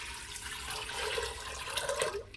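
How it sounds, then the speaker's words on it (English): Water runs steadily into an Instant Pot over dried chickpeas and bay leaves, a continuous close splashing pour with a slight rise in gurgle toward the end, no voices. "And now we just cover with water."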